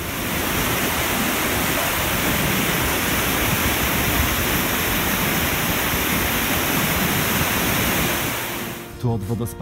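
Waterfall beside a steep mountain trail at Arthur's Pass, a steady, loud, broadband rush of falling water that fills the whole clip, with a brief disturbance near the end.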